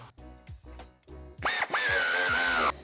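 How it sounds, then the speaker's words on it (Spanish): M6 bolts being tightened on a BMW X3 tow hitch: a few brief clicks and ratchet-like ticks, then a close, loud power drill whirring steadily for over a second before stopping abruptly. "Apretaremos ambos tornillos"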